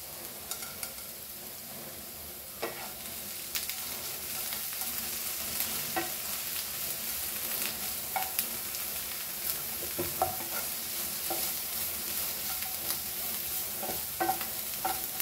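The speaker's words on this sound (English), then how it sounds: "As this is getting fried nicely along with the coconut" Cloves and peppercorns fry with grated coconut in a pan for a Goan-style Akhi Masoor dal, giving a steady close sizzle broken by repeated scraping stirs, with no talking.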